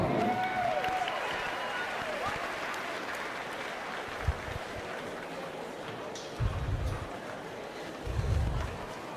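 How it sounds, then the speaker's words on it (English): Audience applause and crowd noise at a Central Florida county youth fair swine show, a steady wash of clapping across the whole stretch with a few louder thumps near the end. "Let's have a round of applause and a good Central Florida welcome to Danny Drawdy."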